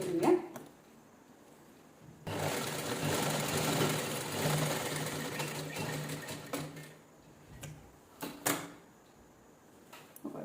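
A sewing machine stitches a saree-fabric jeans-style top in one steady run of about five seconds, with quieter handling and clicks before and after.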